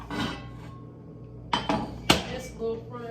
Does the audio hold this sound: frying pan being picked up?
yes